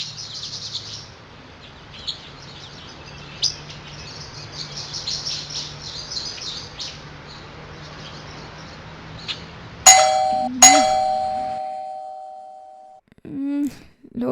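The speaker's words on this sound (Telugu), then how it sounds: "ఎవరో కాలింగ్ బెల్ కొడుతున్నారు చూడు" A calling bell rings indoors, two bright electronic chimes in quick succession after a stretch of quiet background with birds chirping outside, followed by faint muffled sounds.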